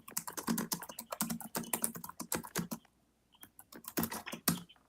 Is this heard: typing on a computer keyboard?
yes